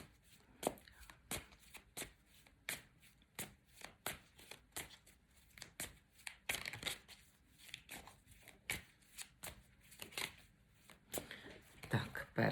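Crisp, rapid riffling bursts of cards being shuffled, repeating in short flurries with soft handling noises in between, close and fairly quiet.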